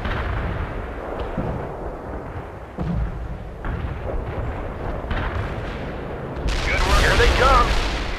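Artillery shells burst in the World in Conflict strategy game, a series of dull booms and rumbling blasts over several seconds, growing louder and denser near the end.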